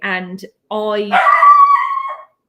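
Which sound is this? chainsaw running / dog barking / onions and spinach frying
dog barking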